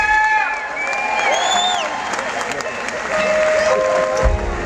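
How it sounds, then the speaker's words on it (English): Concert crowd at a live show applauding and cheering during the band introduction: steady clapping with whoops and shouts rising above it, some tonal sounds from the stage, fairly loud and continuous. "we want you to give yourselves a round of applause"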